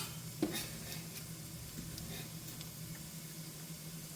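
Garlic, about four cloves, is dropped into a pot for a one-pot chicken and rice dish and sizzles steadily in hot oil, a soft continuous hiss after a brief clatter of it landing.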